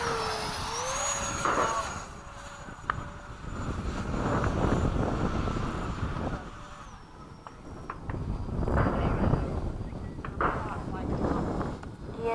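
Freewing 80mm MiG-21 RC jet with electric ducted fan, flying and coming in to land, a whining fan tone rising and falling as it passes at a distance, with wind noise and someone talking over it.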